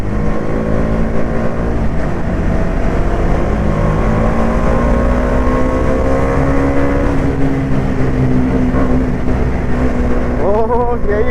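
A motorcycle engine drones and echoes inside a mountain road tunnel on a long solo ride toward Gangtok. The note is loud and steady, and its pitch climbs in the last second as the rider revs.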